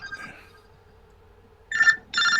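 A phone rings in a quiet room with short, bright electronic ringtone bursts at the start and again near the end, separated by a low hum.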